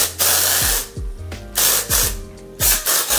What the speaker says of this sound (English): spray a very light veil all over the hair